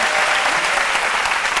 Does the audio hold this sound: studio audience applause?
yes